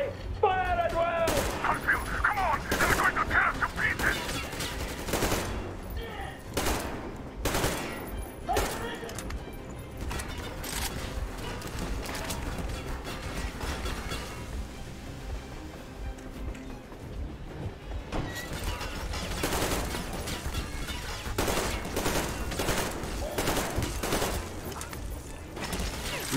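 Machine gun fire in the Metro Exodus train battle comes in dense bursts and scattered shots against the cruiser, with game noise and a player's voice over it.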